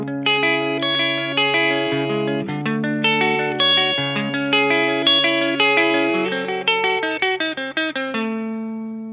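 An electric guitar plays a quick picked riff through distortion and effects, notes ringing and overlapping in a steady rhythm before fading out.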